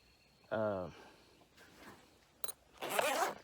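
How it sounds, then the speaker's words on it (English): Heavy-duty zippers on a solar panel carry bag are pulled open in short, close, raspy bursts: one quick zip, a softer rustle, a brief click, then a longer zip at the end. "Heavy duty zippers, so you can access everything."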